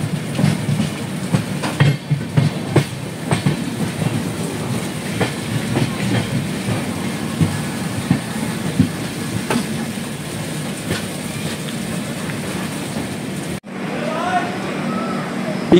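Train No 15658 Brahmaputra Mail runs through Assam with a steady rolling rumble and a rhythmic clickety-clack of wheels over rail joints, heard close from on board, with muffled voices in the background.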